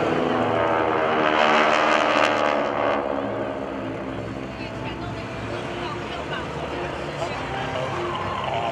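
GEICO Skytypers vintage propeller aircraft fly in diamond formation at a military base open house airshow, their engine drone loud and steady, swelling briefly then easing as they pass, under a public-address voice.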